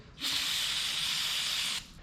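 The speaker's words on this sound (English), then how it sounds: "Once you spray those down with brake clean" Aerosol brake cleaner hisses steadily from the can onto the spark plugs of a 1967 International Scout for about a second and a half, close and loud, with no talking.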